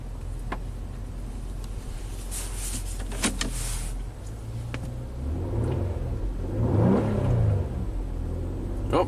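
A Nissan engine with a faulty alternator is held at raised RPM and revved in a steady, loud rumble, swelling into a stronger rev near the end with whirring overtones and no talk.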